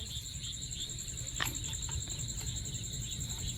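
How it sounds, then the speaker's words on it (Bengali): Crickets chirp steadily at night in a high, continuous drone, with a faint low background rumble and no voices. "আর শুধু ঝিঝি পোকার ডাক ছাড়া আর কিছু শোনা যাবে না"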